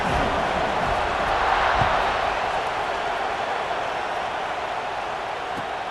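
A stadium crowd roars steadily after a football touchdown in a Washington State versus UCLA game, a dense, loud wash of cheering and noise that holds throughout with no clear voices on top.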